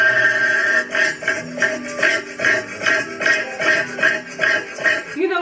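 Cassowary calling, a run of low, resonant booming pulses repeating steadily about every half second, loud and close, with no talk.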